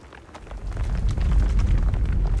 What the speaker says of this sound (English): Those explosions exposed some more bloodstones.